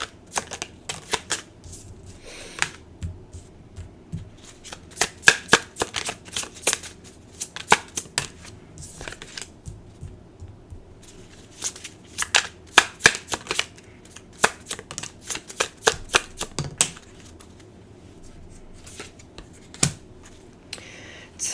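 Tarot cards being shuffled in a run of crisp, rapid riffling and slapping bursts, close and fairly loud, repeating in irregular bouts with short pauses between, no voices.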